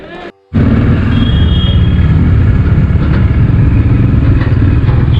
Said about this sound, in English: this is the BS6 model Himalayan.